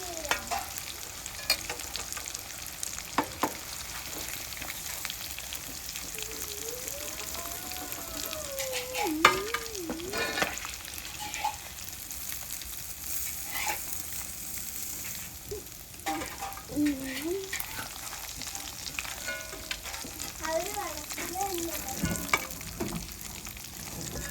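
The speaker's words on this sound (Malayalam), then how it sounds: "അപ്പോൾ നമ്മുടെ ചിക്കനൊക്കെ ഒരു സെമി ഫ്രൈ ആയിട്ടുണ്ട്" Chicken fries in a pan with a steady crackling sizzle and occasional stirring scrapes, close up, with no talk.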